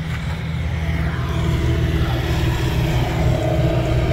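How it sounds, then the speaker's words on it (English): A motorized tree trimmer running somewhere down the street, heard as a continuous, rough engine drone at fairly high level with no pauses and no voices. "Excuse the noise, that's a tree trimmer down the street."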